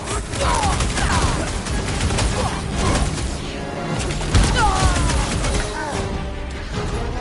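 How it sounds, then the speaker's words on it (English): Heavy weapon fire in a Guardians of the Galaxy video game, loud sustained bursts and booming impacts with crashing debris, layered over music and voiced battle chatter throughout. "Time for the big gun!"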